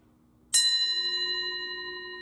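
A single bright metallic strike of a miked cymbal played through a PA speaker rings out and sustains with a shimmering, wavering tone after a quiet low hum.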